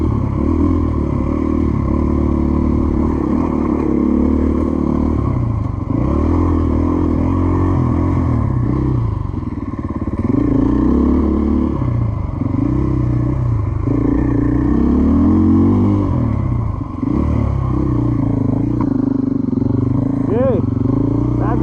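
A 2024 Gas Gas EC450F dirt bike engine chugs along at low revs over rough ground, a steady close, loud thump with clattering and brief rises, under speech.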